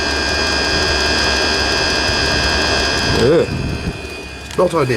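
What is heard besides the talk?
diesel heater blowing smoke after flame-out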